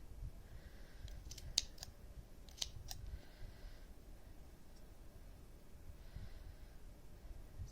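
Scissors snipping through the yarn loops of a pom-pom, a few faint close clicks and cuts spread over quiet breathing-like background.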